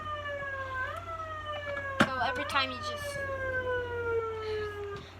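A LAMPHUS SASRN01 police siren unit in manual mode gives a single rising wail that slowly winds down, with a sharp click partway through and someone talking briefly over it.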